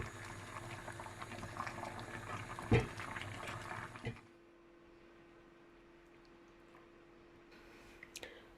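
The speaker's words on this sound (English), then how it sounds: "I'm adding my seasonings to the pot for the last few minutes to bubble away" A pot of seasoned okra bubbling on the stove: dense, loud boiling and gurgling with a knock partway through, then it drops away to a quiet hum and faint clicks near the end.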